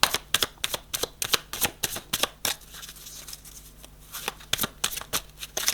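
Tarot cards are shuffled for a card reading, giving close, crisp riffling bursts in a quick irregular rhythm with brief pauses between them and no voice over them.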